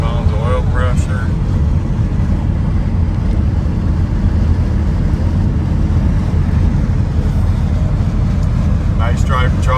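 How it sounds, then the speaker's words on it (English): A 1986 Chevrolet K10 pickup with a new 350 V8 cruises at 55 to 60 mph, giving a constant loud in-cab drone of engine, road and wind noise, with someone talking briefly near the start and end. "Here we're cruising down the road about 55, 60."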